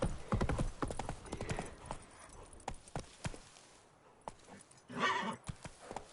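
Roach, a horse in The Witcher 3 video game, clip-clops in a rapid, fairly close hoof rhythm crossing a bridge, fading through the middle before a brief whinny-like burst near the end, with little speech.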